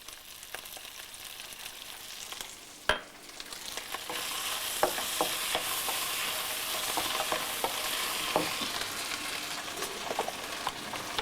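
Continuous high sizzle of chicken being stir-fried on a very high flame, with repeated clatters and scrapes of a utensil against the pan and one sharp knock near the start.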